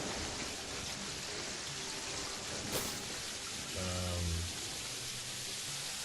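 Rain falls steadily in the video game Terraria, a constant soft hiss of drops heard throughout, with a brief low tonal game sound partway through.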